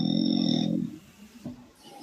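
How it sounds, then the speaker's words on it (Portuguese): A dog snoring loudly, a single long rumbling snore up close, followed by quieter breathing and faint shuffling. "Olha como ele ronca alto."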